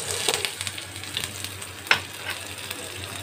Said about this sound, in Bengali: একটু ফ্রাই করে নেব।